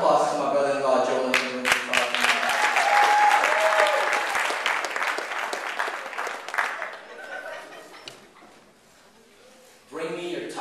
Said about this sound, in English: One round of applause to my brother-in-law, Joel.